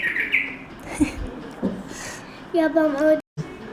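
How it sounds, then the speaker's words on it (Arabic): A small bird chirps in a home kitchen during cake making, with a bright trill at the start and another run of sharp chirps near the end. A person talks nearby. "وهذا العصفور كل ما يشوفني اصور يظل يغرد."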